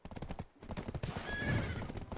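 A horse neighs and whinnies loudly in the Black Desert video game, with hoof clip-clops alongside, a short close burst standing alone.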